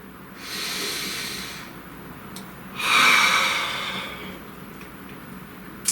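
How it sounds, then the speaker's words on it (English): A person takes a slow, deep breath, a soft inhale followed by a stronger, louder rush of air, then a gentle release, close and clear with no speech. "Please take a nice deep breath"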